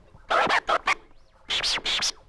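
Bursts of turntable scratching using the fresh technique, three quick stabs then three longer sweeping cuts after a short pause, crisp and up front with no talking.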